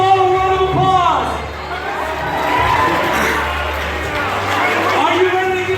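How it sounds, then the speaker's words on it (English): Wedding guests at a grand entrance reception cheer, shout and clap loudly as a crowd, a sustained roar with whoops rising and falling, and voices and music mixed in. "Give yourselves all a round of applause."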